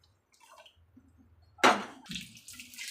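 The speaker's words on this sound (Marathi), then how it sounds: "तळून येण्यासाठी याच्यामध्ये गरम पाणी सोडायचं आहे" Hot water is poured into a pan of dal; quiet small drips give way to a sudden loud splashing hiss, then bubbling that stays close and fairly loud.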